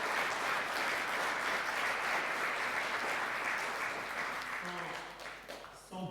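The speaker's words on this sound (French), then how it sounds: "On peut les applaudir encore." Sustained audience applause fills a conference hall at the closing session, steady and dense for most of the stretch before thinning out near the end, with a voice starting to speak at the close.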